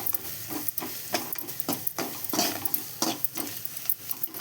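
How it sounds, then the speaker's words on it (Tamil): Potatoes tossed and stirred in a pan with garam masala powder while sautéing for potato podimas, giving a steady run of scraping strokes over a soft sizzle, close and fairly loud with no voices. "கொஞ்சம் கரம் மசாலா தூள் போட்டு நல்லா வதக்கி விட்டுக்கோங்க."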